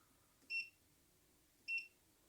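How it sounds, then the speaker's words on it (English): Two short, high electronic beeps about a second apart from an EG4 6000XP inverter's settings panel, crisp and clear over a faint background hum. "Beep is going to drive me up the wall."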